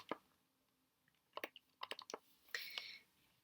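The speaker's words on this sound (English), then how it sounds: "we type that into our calculator" Several quick button presses on a calculator, keyed in short bursts and a final cluster, close and fairly quiet with no talking.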